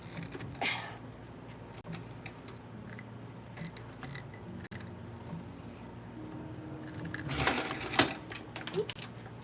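A sewing machine stitches through a Gucci bag being upcycled, with bursts of rapid mechanical clatter and ticking at the start and a louder run near the end, over steady background hum.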